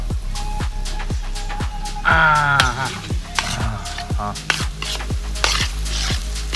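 Boiled corn kernels tip into a hot pan with a brief burst of sizzling, then a spoon scrapes and stirs them in repeated strokes against the metal, close and steady, with no talking.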